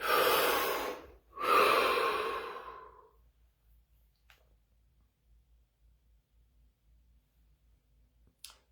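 Two long, deep breaths close up, each a full slow exhale lasting over a second, followed by near silence with only faint low background hum.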